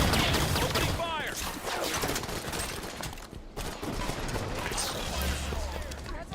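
Dense gunfire rings out in a Halo 5: Guardians battle, with rapid overlapping shots, crashes and explosions layered over one another. A voice speaks under the continuous loud barrage.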